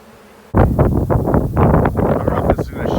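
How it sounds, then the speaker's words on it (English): A swarm of bees flying overhead outdoors, a sudden loud rush of buzzing and wind-buffeted rumble that starts abruptly and continues in uneven surges close to the microphone. "there goes our swarm of bees right there"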